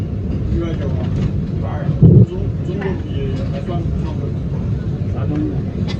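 Constant low rumble of a heritage tram rolling along a Christchurch, New Zealand city street in winter, with a brief clunk midway and someone talking over the noise.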